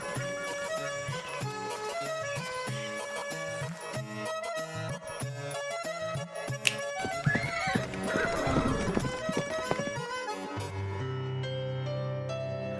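Horses neighing and hooves clip-clopping, with repeated whinnies and a steady clopping rhythm running throughout, loud and close, over a layer of music.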